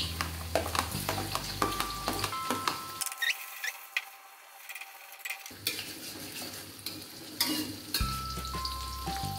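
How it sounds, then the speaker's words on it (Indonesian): Shallots and garlic frying in hot oil, a dense crackling sizzle with bursts of spatter and utensil clinks, dropping briefly to a quieter hiss before surging again. "Di sini saya sudah siapkan minyak, udah panas ya. Sekarang saya masukin bawang merahnya serta bawang putih."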